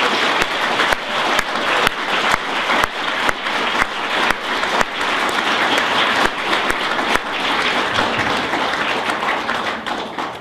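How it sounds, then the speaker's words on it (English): A lecture audience at Asia Pacific Week 2011 at ANU applauds in a loud, dense burst of clapping that runs steadily for about ten seconds, with no voice over it. "Let's give them all a round of applause."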